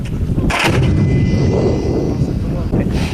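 An automatic 80mm mortar fires: a loud boom with a sharp report, followed by rumbling noise and a faint high whine as it trails off.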